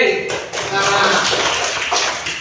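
Classroom applause from a group of students, a quick burst of hand clapping that fills the room, with voices mixed in as the clapping rolls on.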